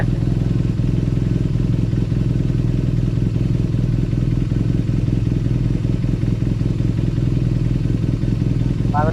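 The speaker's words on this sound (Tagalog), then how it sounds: "Ito ang tunog ng boxer type engine ng BMW R90." A BMW R90 motorcycle's boxer-type engine runs steadily at idle, close and loud, with a constant low throbbing rumble and a light mechanical clatter throughout.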